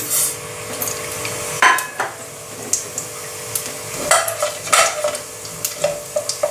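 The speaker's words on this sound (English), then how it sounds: "Stir them in the oil for 30 seconds until they start to pop." Cumin and brown mustard seeds sizzle in hot vegetable oil for veggie samosas, a soft steady fry broken by sharp clinks and scrapes of a utensil stirring against the pan, with no talking.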